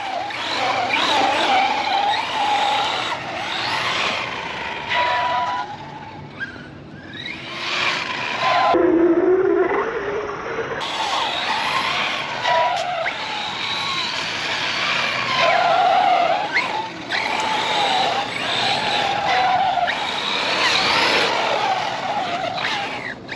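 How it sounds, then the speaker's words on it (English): An Arrma Mojave 4S RC car drives hard on flat dirt at a park. Its electric motor whines and its tires skid and scrabble in loud, continuous bursts that rise and fall, close to the listener. "You can do a lot with this RC car."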